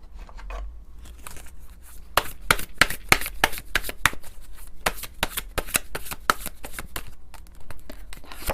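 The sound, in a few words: shuffling tarot cards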